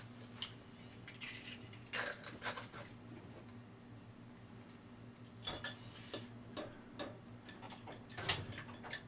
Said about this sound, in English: So I put 2 or 3 eggs into a small bowl and mix them.